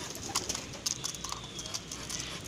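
A pigeon in a loft, heard as faint cooing and soft wing or foot clatter, with scattered sharp clicks over a steady low background hum.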